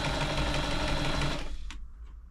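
A New Home 508 sewing machine runs quietly with a fast, even mechanical whir, then winds down and stops, leaving a couple of faint clicks.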